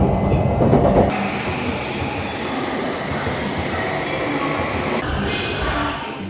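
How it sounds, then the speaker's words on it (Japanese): A Yamanote Line commuter train in Tokyo runs nearby with a loud, steady rumble of wheels on track and faint squealing, filling the whole stretch. "この電車は山手線外回り品川渋谷方面行きです"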